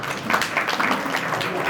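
Audience applause at a community gathering, an all-India Vishwakarma Dodiya get-together in Chotila, steady and fairly close clapping throughout, with a few voices faintly mixed in.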